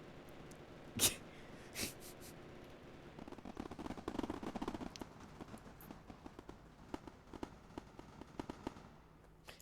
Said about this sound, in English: Okay, so that's the fireworks show.